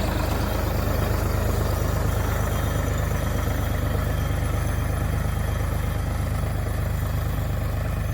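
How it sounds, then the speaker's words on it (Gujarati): A farm tractor's engine rumbles loud and close, a steady low chugging drone that holds even throughout with no voices. "ટ્રેક્ટર જાય છે"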